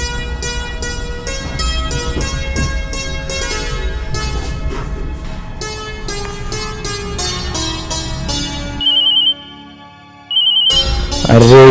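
A phone ringtone plays on and on without being answered, loud and melodic with repeating chimes, pausing briefly before starting again; a woman is waiting for someone to pick up during a Hindi romantic drama.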